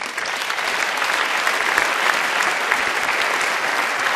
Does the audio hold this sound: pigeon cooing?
no